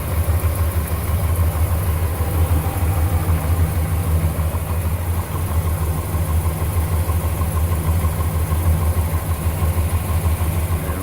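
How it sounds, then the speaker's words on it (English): A 1968 Dodge Monaco 500 with a big block 383 V8 runs at a steady, even idle, a continuous close rumble with no speech over it. "here's that big block motor, 383."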